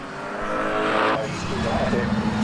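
GT race cars at Donington Park heading into Coppice corner, engines roaring loudly past with a shift in pitch, under a commentator talking.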